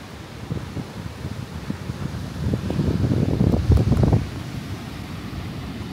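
Strong surf and wind roar at Ohana Beach Resort in Botolan, Zambales, a broad steady wash that swells louder for a couple of seconds in the middle before easing back.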